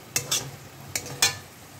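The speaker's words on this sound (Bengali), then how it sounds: "প্রথমে কষে নিচ্ছি ভালো করে" A spice paste of chili powder, turmeric and cumin powder is sautéed in oil for an egg curry, giving four quick scraping strokes of a spoon against the pan over a faint, steady sizzle.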